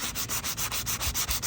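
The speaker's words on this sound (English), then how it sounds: "You're sanding the surface out and you're feathering this at the same time." Rapid, steady back-and-forth sanding strokes scrape across a painted wooden rocking chair, close and continuous with an even rhythm.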